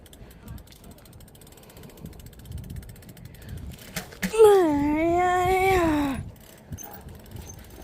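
A bicycle tire skids on a casual ride, giving a loud rising and falling squeal of about two seconds that stands out clearly from quieter riding noise and faint voices.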